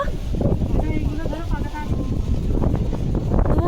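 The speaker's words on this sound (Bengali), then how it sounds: "কি ভালো হাওয়া দিচ্ছে" A breeze buffets the microphone outdoors on the way home from the market as a continuous rushing blow, and voices talk over it.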